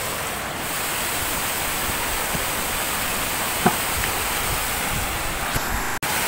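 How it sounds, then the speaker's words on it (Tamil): Water rushes through a forest stream in Kodaikanal during a trek, a loud, constant wash close by that fills the scene, with a single faint knock partway through. "தண்ணியோட சத்தம் அதிகமாக கேட்குன்னு நினைக்கிறேன்"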